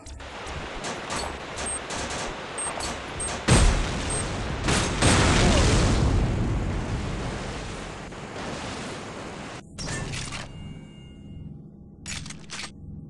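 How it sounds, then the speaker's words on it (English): An explosion in the video game Mobile Forces, on the Hydroworks multiplayer map: a loud, rumbling burst that swells and slowly fades over several seconds, followed by quieter game noise and sharp bursts. "Trailer delivered. Explosion imminent."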